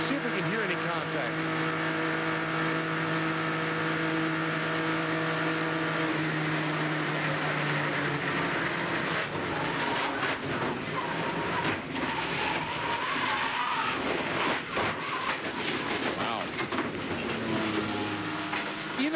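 Race car engine in an ARCA stock car race at Speedweeks, revving high then easing off the throttle through a corner, a loud continuous drone that drops and roughens, with commentators talking over it.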